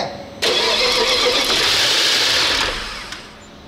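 An Audi S6 C5 4.2 V8 engine with automatic transmission cranks and catches at once on its first start, roaring up loudly and holding a steady rev for a couple of seconds before easing back down.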